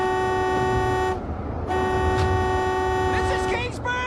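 A car horn blares in long sustained honks, a steady toot that cuts off briefly and resumes, with voices calling out over it near the end.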